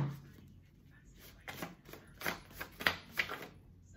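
A deck of tarot cards is shuffled by hand, giving a run of soft, quick riffling clicks and flutters close to the listener, with a quiet, near-silent stretch before the shuffling starts.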